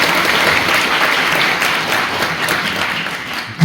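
Lecture hall audience applauding at the end of a guest talk, dense steady clapping that holds for several seconds before tapering off.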